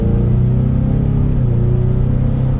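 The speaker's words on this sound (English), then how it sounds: "And just with a mild acceleration, it gets up to speed." A 2022 Ford Mustang EcoBoost pulls away under mild acceleration in S mode, a steady low engine rumble and drone heard from inside the cabin, smooth and loud with no break.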